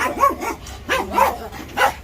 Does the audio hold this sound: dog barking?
yes